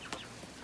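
Backyard chickens, a flock of nine hens in a homemade coop, give a couple of short, soft clucks close by while waiting for mealworms.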